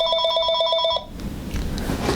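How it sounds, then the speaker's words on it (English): A telephone bell rings in steady repeated bursts for about a second, loud and close, then stops and gives way to quiet room noise. "Phone's ringing."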